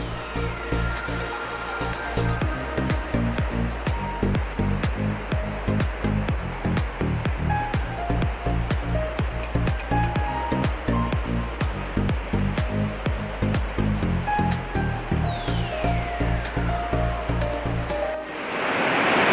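Continuous roar of a waterfall reached by a forest trek in Pelaruga, Langkat, a dense, steady rush of falling water with no voices, faint scattered high bird or insect calls above it.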